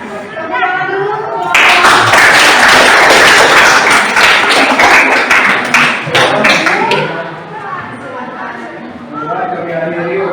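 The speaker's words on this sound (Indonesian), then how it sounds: "Tepuk dulu." A tenth-grade biology class claps for a student group after its presentation, a loud burst of dense, rapid handclaps that starts abruptly, holds for several seconds and then fades as voices speak before and after.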